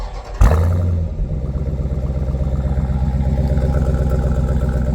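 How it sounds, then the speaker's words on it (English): Remote start of a 2023 Dodge Durango SRT 392 Plus V8: a sharp crank and catch, then a loud, steady, pulsing idle rumble, close and alone. "Definitely a nice little rumble from the 392."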